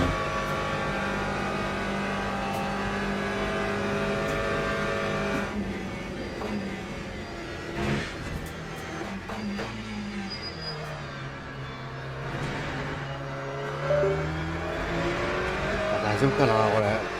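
An Aston Martin GTE race car engine in the Le Mans Ultimate racing game revs and shifts through a lap, rising and falling whines with tire noise, heard under frequent talking and radio voices.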